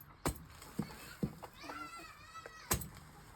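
Chickens let out of their coop give a brief run of squawking calls, broken up by a few sharp knocks or bangs nearby, with faint talking in the background.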